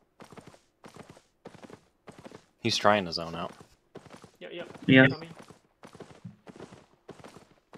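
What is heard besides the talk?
horse hooves galloping in video game Albion Online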